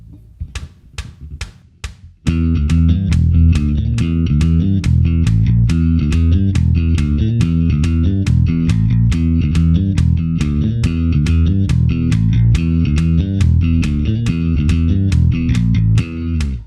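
A bass riff, played with a pick at around 140 beats per minute, chugs in a steady, driving run of loud, distorted notes after a brief scrappy lead-in, with no talking.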